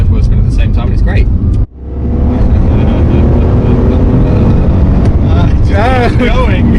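A BMW E46 M3 engine revs hard toward 8,000 RPM, a loud rising roar that dips sharply for a moment and then builds again, with excited voices talking over it.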